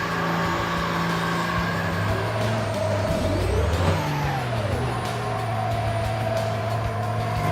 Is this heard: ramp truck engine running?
yes